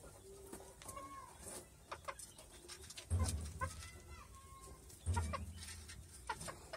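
White chickens cluck softly in a quiet yard, with a few low, louder clucks standing out among faint background bird sounds.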